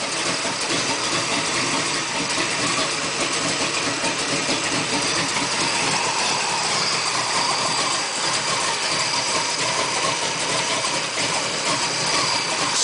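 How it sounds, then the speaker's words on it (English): A big block engine idles after a cold start with no choke, a steady, continuous rumble that holds even and loud for the whole stretch, with no talking over it. "start it up. There's the motor running."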